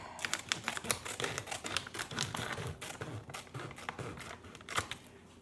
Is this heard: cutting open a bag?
yes